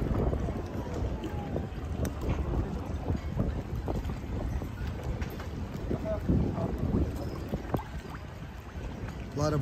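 A boat out on the sea at Bodrum, Turkey, with wind buffeting the microphone and irregular splashes and knocks of water, while faint voices murmur in the background.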